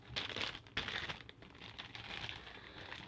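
Close, quiet crinkling and tearing of packing tape being cut on a Sony PlayStation Classic box, irregular crackly bursts with brief pauses, no voices.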